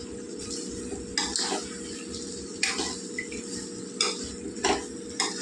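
Khatta masala for biryani fries in a pan while a metal spoon stirs and scrapes it in irregular strokes, with a faint sizzle underneath and occasional sharp clinks against the pan.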